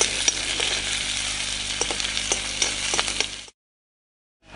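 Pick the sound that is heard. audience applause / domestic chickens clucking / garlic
garlic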